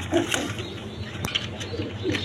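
Homa and Danish pigeons, a hen and a cock sitting on two eggs, coo softly in a few low, brief bursts against a steady background hum.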